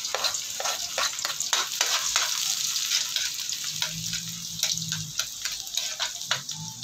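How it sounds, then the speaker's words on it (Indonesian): Garlic sizzles in a hot pan as it is sautéed, a steady crackling fry punctuated by repeated scraping stirs of the spatula, close and clear with no talking. "Magigisa na po ako ng bawang."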